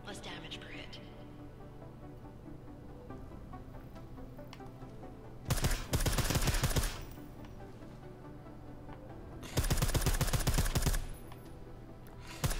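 Silenced gunfire in the video game Deus Ex Mankind Divided, two loud bursts of rapid muffled shots, each lasting over a second, over a quiet ambient game background.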